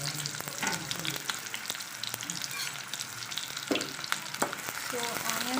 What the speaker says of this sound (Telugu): ఆయిల్ హీట్ అయిన తర్వాత మనం ఇక్కడ వేసుకుంటున్నాం ఆనియన్స్